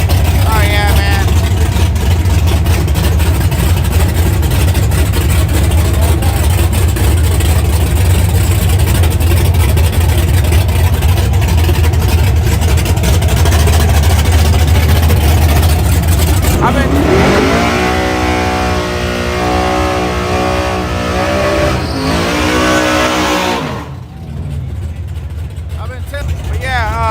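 Big block Chevy drag car idling and revving loudly and steadily in the right lane at a late-night street-style drag track, with crowd voices and talk throughout and a rising engine pitch near the end.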